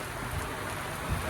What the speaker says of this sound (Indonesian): Pak, hujan ya, Pak.